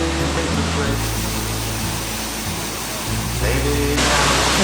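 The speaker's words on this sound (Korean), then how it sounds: "여기는 인조 폭포가 같이 나오고 있는 것 같은데" An artificial waterfall in an Indian jungle sends up a steady, close rushing roar of falling water, with a voice talking over it.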